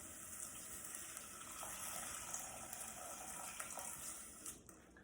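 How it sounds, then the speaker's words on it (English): Water poured into a soup pot holding broccoli, a steady close splashing rush that runs the whole time at an even level with no talking. "we can add a little more water."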